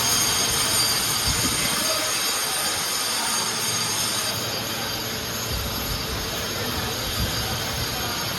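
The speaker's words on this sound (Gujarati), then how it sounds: "હવે ટ્રેનને ઉપડવાનો ટાઈમ થઈ ગયો છે" A train's low rumble and broad hissing roar fill the whole stretch, steady and moderately loud, with faint rolling wheel noise underneath, heard on the Mahuva to Dhola route.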